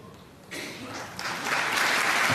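The crowd at a snooker championship final breaks into applause, starting quietly and building in two steps to a full, sustained round of clapping.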